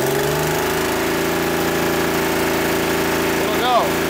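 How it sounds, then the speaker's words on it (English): A DeLorean engine, running again after old gas was cleaned out, drones loud and steady with the throttle held open, its revs stalling at one point as if limited, with a brief squeal near the end. "When I just threw the throttle, it does kind of stop at one point."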